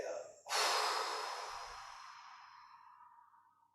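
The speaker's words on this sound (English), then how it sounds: "Inhaling as we rise up and stretch. Exhale." Deep breathing during a Wu Dang style qigong exercise: a single long, breathy exhale that starts abruptly and strong, then fades slowly over about three seconds, close and alone.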